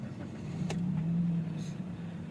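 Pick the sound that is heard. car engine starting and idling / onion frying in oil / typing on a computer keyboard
car engine starting and idling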